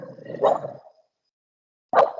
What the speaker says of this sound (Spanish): perdón, mi mascota está ladrando